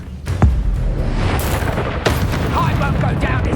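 Confringo fire spell blasting in a Harry Potter video game: one sharp booming burst near the start, a second whooshing crack about two seconds in, over dense rumbling game noise and effects.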